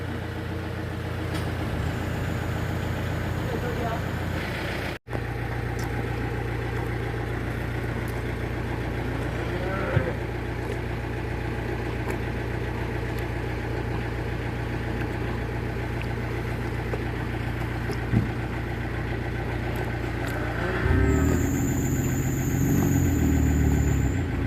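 A steady, droning tractor engine idles close by for the whole stretch, low and constant, with a brief cut near the start and some added clatter toward the end.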